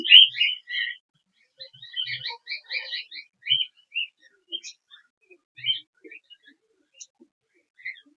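Semi-adult cockatiels chirp in bright, rapid bursts, loud and close at first, then thinning to scattered short calls with gaps of quiet between them.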